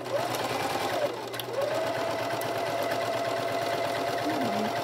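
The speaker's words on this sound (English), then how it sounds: "we're going to sew along this flat side around the curve of the neckline and then down the opposite flat edge" A sewing machine runs in a steady close whir as it stitches an 18-inch doll dress neckline seam along a flat edge and around the curve, slowing briefly before continuing on.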